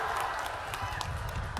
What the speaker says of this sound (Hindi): संजय जायसवाल के लिए जोर से ताली बजाओ सभी लोग।